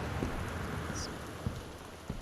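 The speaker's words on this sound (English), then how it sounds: "It is raining outside." Steady rain hisses continuously in the video game Gone Home, with a few soft low thumps and a brief high chirp partway through; no voices.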